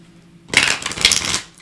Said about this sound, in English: I'm going to shuffle these real quick. I always shuffle on camera.